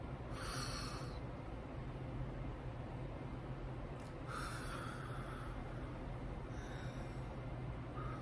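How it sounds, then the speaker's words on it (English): Faint, airy breaths in and out come as three separate hissy puffs, spread out over a low steady background hum. "we like to breathe in and breathe out to get our day started"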